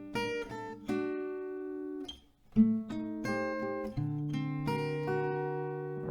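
Acoustic guitar picking the main melody of a song, clear plucked notes ringing over low held bass strings, with a brief pause midway before the phrase continues, played alone.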